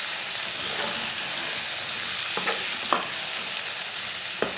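Garlic, tomatoes and green chillies frying in a pan, a continuous close sizzle with a few sharp stirring clinks of a spoon against the pan.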